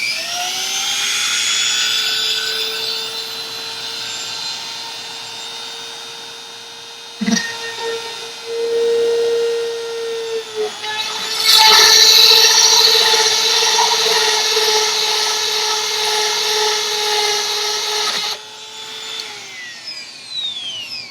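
Power drill boring a small hole through a plastic hula hoop, a loud steady motor whine that pauses and restarts several times, with brief bursts of grinding as the bit bites into the plastic.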